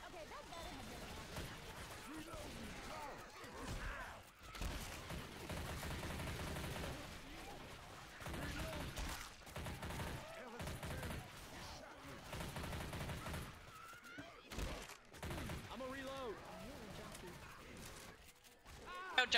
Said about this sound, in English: Seriously, this gun sounds like it's just rubber bullets.